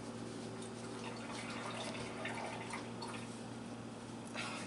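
Water drips and trickles faintly while acrylic painting tools are rinsed, a soft liquid patter over a low background hum.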